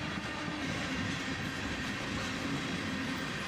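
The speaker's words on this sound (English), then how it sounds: "This whole train took about 12 minutes to fully pass me by." A long grain and tank freight train with KCS, CP and CSX power rumbles past close by, its wheels clattering in a steady, continuous roar with no voices.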